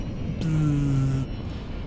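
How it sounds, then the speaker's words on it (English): Ship afterburner kicking in inside Elite: Dangerous, a sudden loud whooshing roar with a steady tone held for about a second before cutting off, heard alone. "if I now hit tab, which is my default afterburner, I then afterburn all the way through them"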